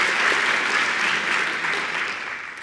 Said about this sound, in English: So again, another round of applause for all our winners.